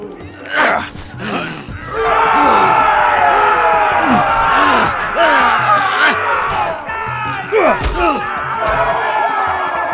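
Arena crowd in the Game of Thrones Telltale video game roaring and shouting, a dense, loud swell of voices with sharp thuds and cries mixed in, sustained over several seconds beneath music-like tones.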